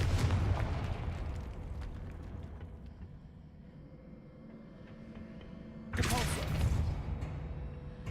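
A Confringo fire spell from Hogwarts Legacy gameplay goes off as a loud booming burst at the start, then a rumbling tail, followed by a second sharp explosive blast near the end.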